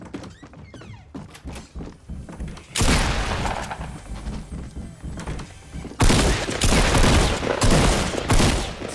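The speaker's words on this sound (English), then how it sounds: "So we got a shotgun right here." Shotgun blasts ring out in a video game, a few sparse shots early and then a dense, loud barrage of rapid booming fire that keeps building, with no talking over it.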